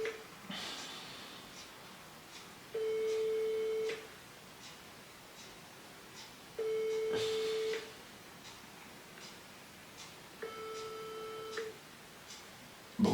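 Phone call ringing out unanswered, a steady electronic ringback tone sounding in three evenly spaced bursts of about a second each, with quiet pauses between them and no talk.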